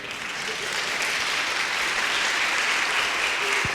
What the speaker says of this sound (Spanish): Aplaudan las mujeres.